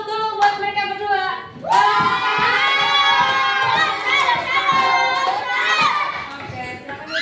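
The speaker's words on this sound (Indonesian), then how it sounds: "kita berikan tepuk salut dulu buat mereka berdua" Schoolchildren in a classroom break into loud, rhythmic patterned clapping and chanting voices together in a salute clap, continuing for several seconds after a brief lead-in.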